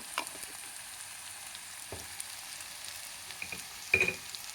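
Ginger garlic paste sizzling in hot oil with mutton, a soft steady frying hiss punctuated by a few brief stirring clinks and a louder scrape near the end.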